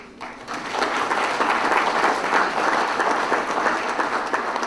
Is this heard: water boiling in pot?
no